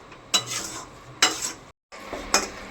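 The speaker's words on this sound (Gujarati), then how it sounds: "હવે એને આપણે ભાતમાં મિક્સ કરવાની છે" Cooked Maggi noodles are stirred into rice with a utensil, making soft continuous scraping with a few sharper clinks against the pot, close by and without talk.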